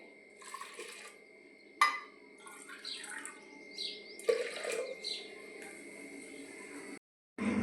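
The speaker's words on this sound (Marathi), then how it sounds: "मी याच्यामध्ये ह्याच्या डाळीच्या दुप्पट पाणी घालणार आहे" Water is poured from a bowl into a pot of moong dal, making a soft, splashy gurgle that rises in two bursts. It sounds close but quiet, with brief pauses between pours.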